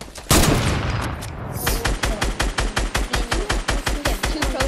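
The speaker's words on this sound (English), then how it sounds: "I'm shooting down some trees." Rapid, evenly spaced automatic gunfire in Fortnite as a player shoots down trees, a steady loud rhythm of shots after an opening blast, with no talking over it.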